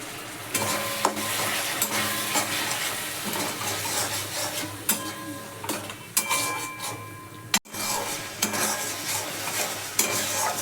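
Spice paste of turmeric, chilli, coriander and cumin with a splash of water being sautéed in a pan for a duck egg curry, heard as a steady close sizzle with rhythmic scraping and clinking stirs and one sharp knock.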